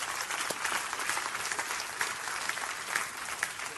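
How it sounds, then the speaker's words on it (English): A church congregation in Boston claps and applauds together, a dense wash of many hands sustained evenly throughout without talk. "Give God a good hand clap"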